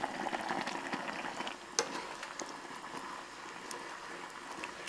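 Water starting to bubble in a pot while cooking jjajang tteokbokki, a soft steady simmer with light popping and faint clicks, close and quiet.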